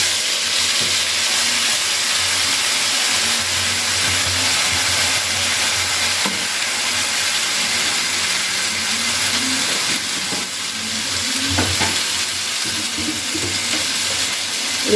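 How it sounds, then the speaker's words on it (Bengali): A ground paste of ginger, garlic, onion, green chilli and tomato sizzles and hisses in a hot pan, a loud steady frying crackle with a few clatters of stirring. "আর এখানে আমি আদা রসুন পেঁয়াজ কাঁচা লঙ্কা টমেটো বেটে রেখেছিলাম ওটাকে আমি দিয়ে দিচ্ছি"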